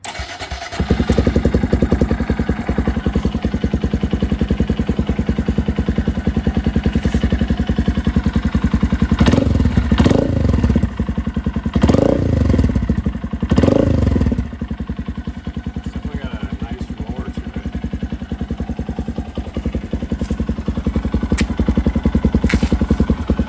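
A 2023 Honda Grom motorcycle fitted with a Zoom exhaust cold starts and settles into a loud, steady, close idle, with several brief throttle blips partway through and no talking.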